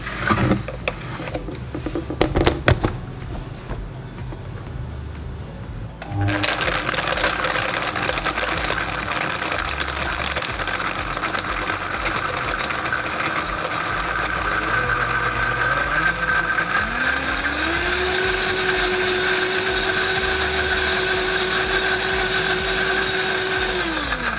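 A Vitamix blender blending frozen fruit, ice and banana: a steady, loud motor whir runs continuously after a brief clattering start, its pitch climbing midway as the blades speed up, with no talking.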